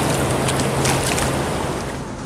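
Ocean waves wash up a sandy beach on the California coast in a steady, loud surge of foamy hiss, with wind noise buffeting the microphone throughout.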